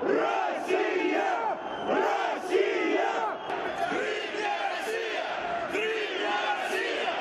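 Large crowd of protesters outside the Crimean parliament in February 2014, chanting loudly in rhythmic, repeated shouts that rise and fall steadily throughout, with whistles cutting through now and then.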